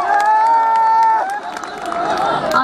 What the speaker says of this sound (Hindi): तो जोरदार ताली सब अपने लिए बजाएंगे।